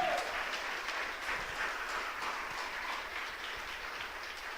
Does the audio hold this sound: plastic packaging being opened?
no